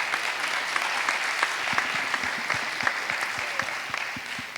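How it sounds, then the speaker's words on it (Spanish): Applause from an audience at a public-private development forum session, steady and dense across the whole stretch with sharp individual claps standing out, heard alone without talk. "pueden aplaudir, claro que sí"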